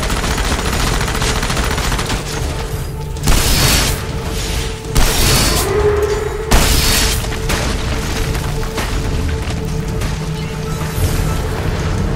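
Loud bursts of gunfire and booming blasts from the video game Enslaved punctuate a constant rumbling background, with several heavy shots clustered in the middle.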